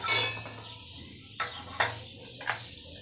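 Dry coconut and garlic dropped into a steel mixer jar, a few sharp clinks and knocks of pieces hitting metal, close and fairly faint, no talking.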